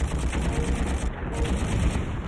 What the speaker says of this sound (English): Your minigun will automatically acquire targets